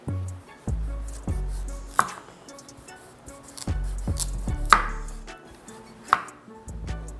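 A knife cutting through a small honey nut squash on a board, a handful of distinct heavy chops and thuds spaced irregularly, close up with quiet pauses between strikes.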